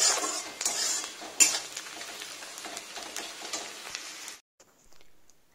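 Meat goes into a kadai (wok) and is stirred, with metal utensil scrapes and clinks over a light sizzle, close and fairly quiet, before the clatter stops abruptly.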